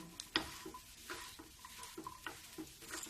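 A spoon stirs a snack mixture seasoned with chaat masala in a pan, producing soft, close, irregular scraping taps and clinks at a steady pace, quiet and without talk.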